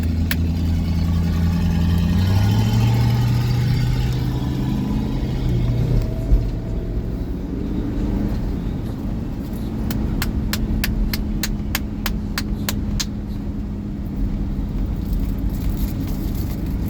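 A Mustang car engine idles steadily at close range, a low, even rumble with a slight dip in pitch early on and a few faint ticking sounds over it.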